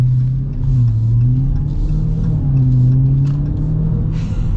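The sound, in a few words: supercharged V8 car engine revving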